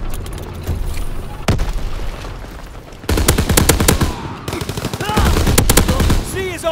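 Call of Duty WWII game battle audio: rapid machine-gun bursts and heavy gunshots with booming impacts, loud and dense, growing more intense in the second half, with brief shouted game voices mixed in.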